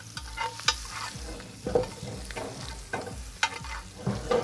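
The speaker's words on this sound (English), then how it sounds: "So here's your butter. I'm going to keep basting this." Dry-aged steak sizzles in a pan as it is basted with butter, a continuous crackling fry with spoon scrapes and splashes at regular intervals, close and fairly quiet.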